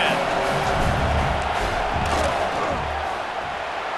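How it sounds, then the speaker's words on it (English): Stadium crowd in EA Sports College Football 26 during a fourth-down field goal attempt: a dense, continuous roar of many voices that holds steady and fades slightly toward the end. "This crowd trying to do its part to get inside the kicker's head."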